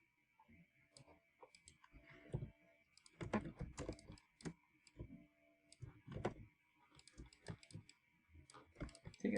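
Someone types on a computer keyboard while working in Adobe Illustrator, producing quiet, irregular bursts of close key taps and clicks with short pauses between them over a faint background hum.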